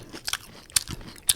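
Sharp, close crunches of cereal being bitten and chewed right into a microphone, three distinct bursts spaced across a brief moment with quieter mouth sounds between them.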